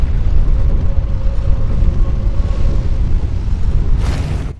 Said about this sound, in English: there's a fire spewing column here